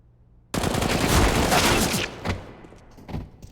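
A sustained AK rifle burst rips out in a Counter-Strike match on Mirage, loud and continuous for about a second and a half, then stops, followed by a couple of fainter, scattered shots.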